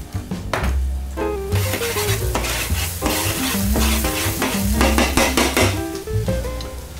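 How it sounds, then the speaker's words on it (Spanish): Chopped garlic and a spoonful of paprika sautéing in a pan for a lobster and langoustine fideuà, with a loud, close sizzle and busy metallic stirring and scraping against the pan, and no talking. "Unos dos o tres ajos picados. Sofreímos también un poco. El pimentón."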